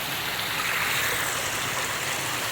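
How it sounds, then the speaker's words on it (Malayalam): Water in a stream rushes and burbles steadily nearby with a dense, even flow, and no voices are heard. "അവിടുന്ന് വരുന്ന വെള്ളം കേട്ടോ"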